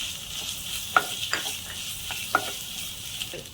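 Mashed potato with garam masala is sautéed in a pan, making a soft, steady sizzle with light, irregular taps and scrapes of a spoon stirring, close up and alone.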